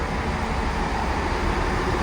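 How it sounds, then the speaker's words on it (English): A steady, loud British Rail Class 158 diesel multiple unit train rumble fills the whole stretch, a dense continuous roar with no pauses. "A Class 158 for those train buffs amongst us."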